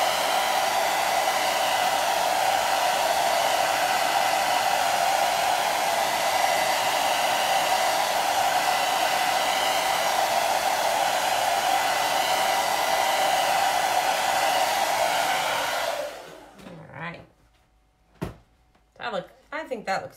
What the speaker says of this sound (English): So we're going to blow dry it a little bit so that so I don't touch it